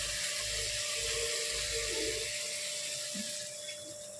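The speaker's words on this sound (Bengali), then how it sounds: "এবার আমরা এর মধ্যে অ্যাড করে দেবো পরিমাণ মতো জল।" Water pours into fish curry masala sizzling in oil in a pan, a steady rushing splash that hisses against the hot spices, close up, fading slightly toward the end, with no voices.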